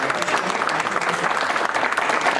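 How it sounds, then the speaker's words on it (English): A dinner-event audience breaks into sustained applause, a dense steady patter of many hands clapping that fills the room evenly from start to finish. "let's have another round of applause for Sumer."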